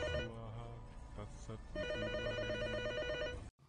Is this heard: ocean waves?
no